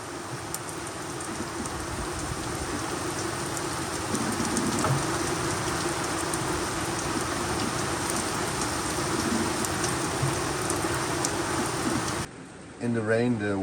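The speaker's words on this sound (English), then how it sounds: "Well, it's definitely raining now, but that's nice." Rain falls steadily on a sailboat drifting at sea in near-calm wind, a dense, continuous hiss of drops on deck and sails that swells slightly midway before cutting out at the end.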